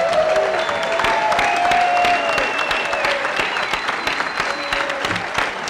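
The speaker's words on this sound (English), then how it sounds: "If you guys would stand up and let us give you a round of applause." Sustained applause from a crowd for a university football team at a press conference, loud and continuous throughout with some cheering mixed in.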